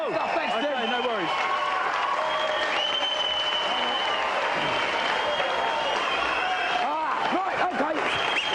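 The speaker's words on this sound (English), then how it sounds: "applause for Steve, the winner in the blue boat." Studio audience applause on a game show, steady dense clapping throughout with cheering over it and a host's voice calling out over the noise.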